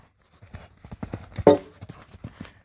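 Horse hooves cantering over ground during a jumping lesson, a quick rhythmic run of thuds at close range with one louder hoof strike midway.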